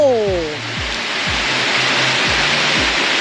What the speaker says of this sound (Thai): น้ำตกค่ะ